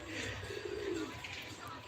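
A flock of pigeons, some of them young, gives a brief low cooing call over a steady background hum, with faint voices in the distance.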